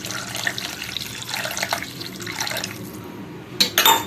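Water is poured into a pan while cooking thakkali kolambu, a Tamil tomato gravy, making a soft running, trickling sound that builds into a brighter splash and pour near the end, close by with no talk.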